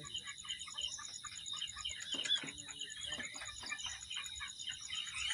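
Broiler chickens about 28 days old cluck softly and intermittently on a farm while being weighed, faint calls over a steady high electrical hum.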